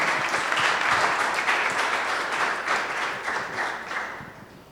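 An audience applauds after a talk at a PyData conference on particle physics data analysis, a sustained round of clapping that slowly fades toward the end.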